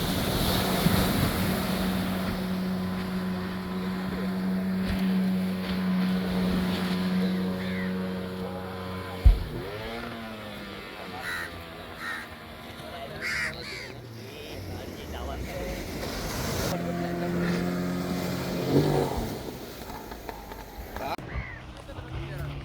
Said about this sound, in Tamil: இப்போ இந்த போட் வந்து நிற்கிது.